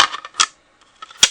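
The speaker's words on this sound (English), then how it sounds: "Then you run it through your die cut machine." A die-cut machine such as a Big Shot or Cuttlebug is cranked with card stock, giving short, sharp clicking and clacking mechanical bursts separated by brief silent gaps, close up and with no talk.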